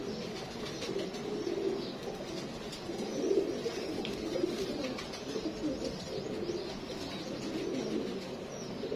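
Saharanpuri teddy pigeons coo steadily in a loft, a continuous low, throaty burbling from several birds close by, with faint chirps mixed in.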